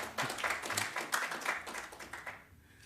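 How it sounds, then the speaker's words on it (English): Audience at a World Kidney Day celebration gives a short burst of clapping, fairly faint and uneven, fading out to near silence in the last half second. "let's clap again for NHIF"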